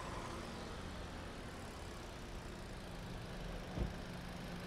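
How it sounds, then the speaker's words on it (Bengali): A 2018 Hyundai Accent automatic car idles with a steady, even engine hum held close and constant throughout, broken only by one brief knock near the end. "এই ইঞ্জিনের সাউন্ডটা শুনে আপনারা।"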